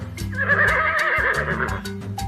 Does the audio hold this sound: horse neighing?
yes